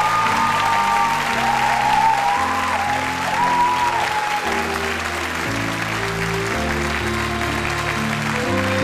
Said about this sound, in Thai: ขอเสียงปรบมือดังให้น้องปาล์มด้วยนะครับ